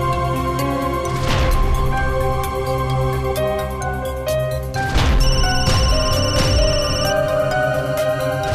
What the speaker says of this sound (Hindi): फोन है, उठा लो ना।